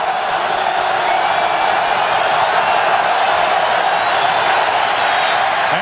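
A large football stadium crowd at a Minnesota at Green Bay wildcard playoff game roars steadily, a loud, dense wash of noise that holds for several seconds without letting up.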